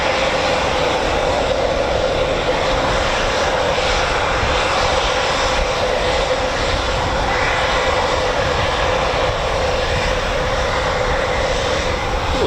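A Eurofighter Typhoon FGR4 jet at RAF Coningsby gives off a constant, loud, broad engine roar that lasts throughout without a break. No voices can be heard.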